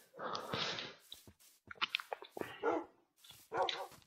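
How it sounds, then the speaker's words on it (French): Dogs bark in a forest within a video game, several sharp, close barks in irregular bursts over roughly four seconds, with short gaps between them. "Beaucoup de chiens, hein,"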